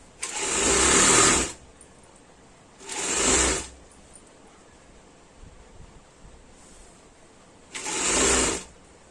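A sewing machine stitches the front neck of a Punjabi kameez in three separate whirring runs, each lasting a second or so with pauses between, loud and close against faint background noise.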